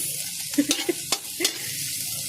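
Baguio beans stir-fried in a pan, with a few sharp scraping stirs and clacks over a steady soft sizzle, close and alone.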